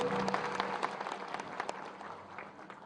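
An audience claps for visiting farmers at a public event with a Union minister, a brief scattered burst of applause heard at some distance that gradually thins out and fades.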